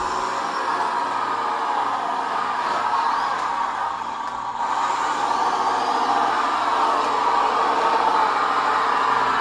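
A Tamiya 1/14 Grand Hauler Peterbilt RC dump truck runs in third gear, its steady electric motor whine continuous and fairly loud throughout, with a brief dip in the middle and no talking.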